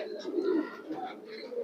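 Pigeons at a loft housing Bagha and green-throated breeds coo in close, soft, low rolling calls that overlap continuously.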